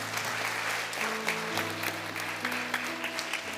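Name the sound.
congregation applause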